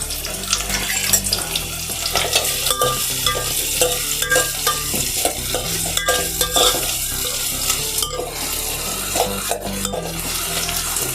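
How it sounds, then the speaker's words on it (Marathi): Chopped onions frying in hot oil in a pot for a prawn dish, loud continuous sizzling and hissing with rhythmic stirring scrapes throughout, close up. "कांदा छान शिजवून घेऊया"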